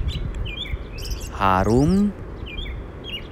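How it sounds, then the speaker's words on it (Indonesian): Songbirds calling outdoors in spring in America, with high thin chirps scattered throughout and a louder descending call near the middle, set over steady background noise and a faint voice. "kemudian suara burung-burung indah seperti ini sering terdengar"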